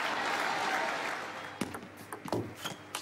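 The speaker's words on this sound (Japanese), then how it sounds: "大きな拍手" Crowd applause rings out after Jun Mizutani loses a table tennis match: dense, loud clapping for about a second and a half, then fading into scattered claps and small noises.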